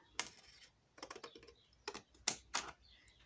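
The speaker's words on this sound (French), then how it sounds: "je reprends mon ciseau, ou le cutter, ou ce que vous avez, ou massicot, hop, et je coupe autour" Scissors or a cutter trim paper around the edges for a handmade mini album: a handful of faint, crisp snips and clicks come in short irregular bursts with quiet gaps between them.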